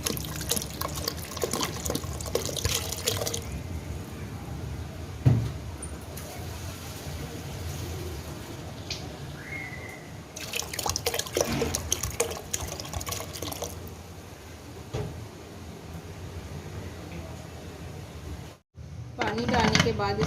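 Water pours into a pot of black chickpeas for kala chana curry ahead of pressure cooking, a sustained splashing fill with trickling and dripping, broken by short pauses and handling clatter.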